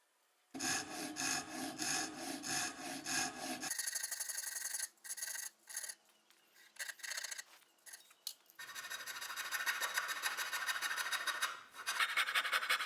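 Hand saw cutting wooden dovetails for a fine furniture liquor cabinet: steady rhythmic back-and-forth rasping strokes, close and clear, with brief pauses between bursts of sawing and no talk.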